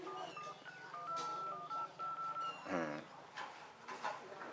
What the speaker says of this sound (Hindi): घंटी जात बा।